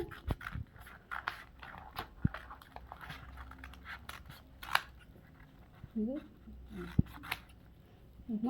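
Scissors cutting nightie fabric into two pieces, heard as repeated close snipping and rasping cuts, with a voice murmuring in the background.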